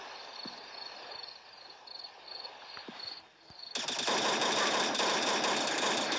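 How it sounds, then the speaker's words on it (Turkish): Bursts of rapid automatic gunfire from a shooter video game, faint and spaced at first, then a loud sustained burst of firing that fills the second half without talk. "Ben kafasına mermiyi vurdum."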